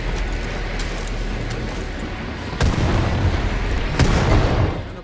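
Explosions in the video game Far Cry New Dawn, a steady rumbling din broken by two heavy booming blasts near the middle and end, loud and close with no talk.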